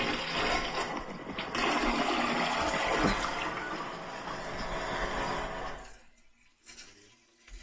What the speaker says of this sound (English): It's a toilet flushing